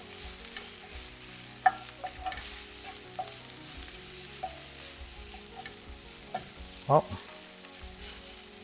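Garlic frying in a pan for homemade hummus, a loud continuous close sizzle with a few stirring clanks and one sharp knock near the end; a brief exclamation is spoken.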